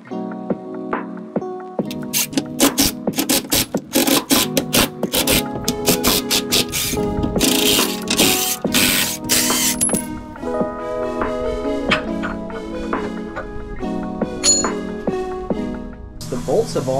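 Metal tools clink and ratchet on bolts holding a shuttle bus wheelchair lift, with sharp repeated clicks and clanks close by and some tonal ringing throughout.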